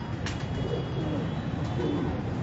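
Rare breeder pigeons cooing steadily in a low, continuous murmur over a dense background of ambient noise, with no clear pauses.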